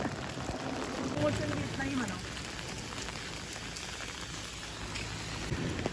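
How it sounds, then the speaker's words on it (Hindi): Heavy rain pours steadily onto a flooded street in Bahria Town, Karachi, a dense continuous hiss of drops striking standing water, with a faint low hum and voices murmuring in the background. "लेकिन अभी भी बारिश बहुत है"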